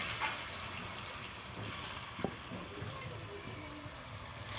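Pointed gourd (potol) pieces fry in hot oil seasoned with salt and turmeric for chal potol, giving a steady, even hiss of sizzling with a faint tap partway through.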